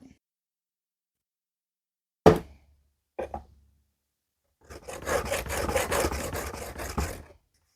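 Scandi knife blade drawn across a finer 600-grit abrasive: two short scraping strokes, then a longer sustained rasping run of rapid back-and-forth rubbing, close and fairly loud.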